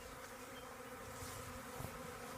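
Honeybees buzz around a newly started beehive, a dense, steady hum of many insects close by.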